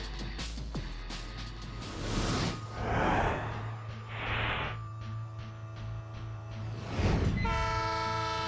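The Spirit of Oregon, a refurbished steam locomotive, rumbles past with chuffing bursts and a sustained horn blast that sounds out clearly near the end, fairly loud with no talk.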